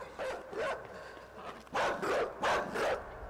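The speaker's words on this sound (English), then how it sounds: "I know the dog's still after us." A dog in the video game Inside barks while chasing, several sharp bursts in quick succession at moderate distance, with no talking over them.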